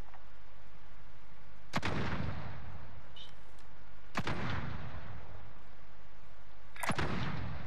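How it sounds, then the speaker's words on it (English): Gunshots in Call of Duty: Modern Warfare, three loud, booming single shots spaced a couple of seconds apart, each with a long echoing tail over steady background noise. "there's other shots coming"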